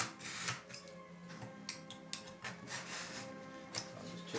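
A utility knife slicing through a corrugated board sample in a lab setting, heard as soft scraping and rubbing with a few sharp ticks and clicks over a steady machine hum, close and without speech.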